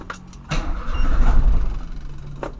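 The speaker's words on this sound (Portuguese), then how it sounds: "bora dar a partidona aí, vamos ver se vai pegar na primeira" A Volkswagen Voyage engine cranks for a couple of seconds with a low, uneven churning rumble, close by inside the car, before fading off.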